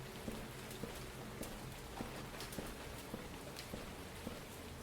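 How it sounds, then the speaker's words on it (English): Rain falling in the arctic survival game Arcticide, a steady dense hiss with faint scattered drop ticks and no voices, heard alone throughout. "And there is different weather. Almost forgot about that till it started raining."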